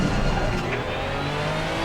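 In the racing game Assetto Corsa, a race car's engine drones steadily and loudly as it accelerates and brakes while warming its tyres, with no voices over the engine.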